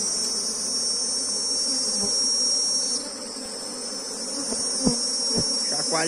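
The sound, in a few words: honeybees buzzing while a hive frame is inspected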